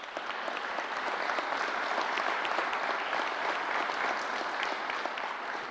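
Applause for a County Executive at a Westchester COVID-19 vaccine announcement, a continuous, even round of clapping from a crowd, moderately distant and lasting several seconds.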